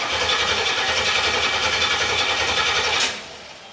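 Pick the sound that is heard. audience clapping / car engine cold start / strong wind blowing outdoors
car engine cold start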